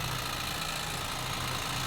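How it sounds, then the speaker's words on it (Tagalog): A Hyundai Accent CRDi diesel engine runs at a steady idle, giving a constant, even mechanical hum and hiss with no talk over it. "So yung maingay, hindi po yan sa aircon guys, sa makina po yan"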